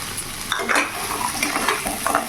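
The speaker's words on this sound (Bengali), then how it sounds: "ভালো করে নাড়াচাড়া করে নেব।" Fried eggplant and fried bori being stirred into spice masala in a pan for a rohu fish curry. A steady sizzle plays under repeated scraping and clattering strokes of a spoon against the pan.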